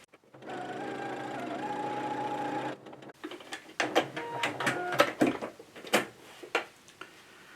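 A sewing machine stitches a tiny buttonhole on a Vogue evening gown, first a steady close whirring run, then a series of rapid mechanical ticks and clacks as it finishes.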